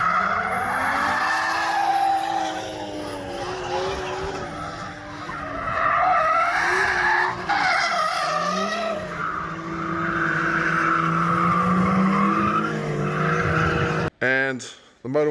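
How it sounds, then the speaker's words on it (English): A BMW E46 convertible drift car slides with tires skidding and squealing, its engine revving and wavering loudly in close, continuous bursts over roughly fifteen seconds, with a brief sharp break near the end. "Currently in the E46 convertible drift car."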